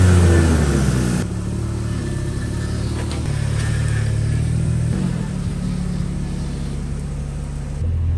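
A slammed Mercedes-Benz W140 S420 on air bags being driven, its V8 engine a steady low hum and rumble that swells and eases a little through the drive, close and continuous.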